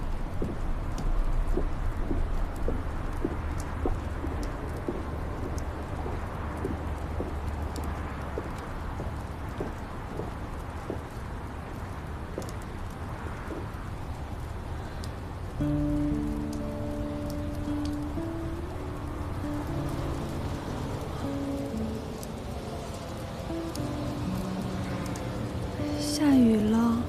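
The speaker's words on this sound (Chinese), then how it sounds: "下雨了。" Steady rain falls outdoors near a pavilion, a continuous dense patter of drops on surfaces throughout, with speech and music-like tones rising over it in the later part.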